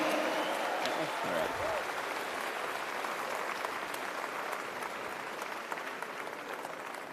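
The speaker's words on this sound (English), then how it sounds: "a big round of applause for Ben Shapiro" Steady, dense audience applause fills a large hall at the Politicon 2018 political convention as the crowd welcomes Ben Shapiro, with a brief voice over it near the start; the applause holds loud and even throughout.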